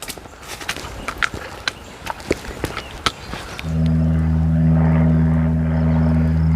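Footsteps crunch on an Appalachian Trail path, then a propeller plane flying overhead takes over as a steady droning hum that stays loud and continuous.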